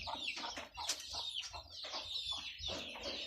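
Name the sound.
chickens clucking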